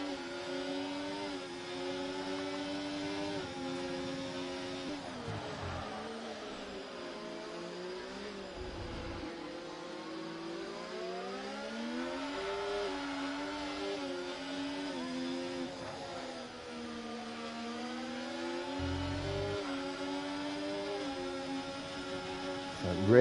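A race car engine in a sim racing game holds a steady, loud drone with gentle pitch sweeps through gear changes, running continuously as commentators talk over it.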